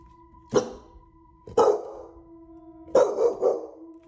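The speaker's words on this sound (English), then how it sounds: "He tries to calm the dog down, but it just won't stop." A dog barks loudly and sharply indoors, in three bursts with the last one doubled, echoing through the house while it keeps going despite efforts to calm it.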